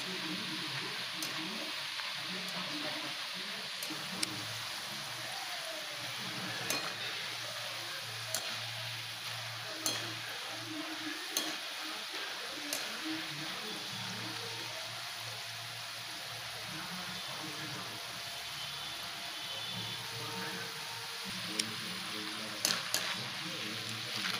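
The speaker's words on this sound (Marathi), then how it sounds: "हे असे थोडेसे पिंक कलर होईपर्यंत, चांगले कडक होईपर्यंत तळायचे" Jackfruit wafers deep-fry in oil over lowered heat, giving a steady, soft, rain-like sizzle with scattered crackles and pops, close and quiet, with no talk.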